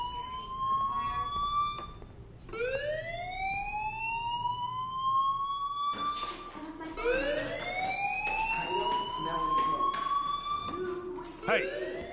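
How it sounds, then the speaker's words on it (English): A rising and falling electronic fire alarm siren in the video game Life is Strange, wailing in repeated sweeps that climb in pitch, loud and continuous, with faint background noise between cycles. "do you hear that fire alarm?"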